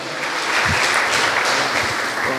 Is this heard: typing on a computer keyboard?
no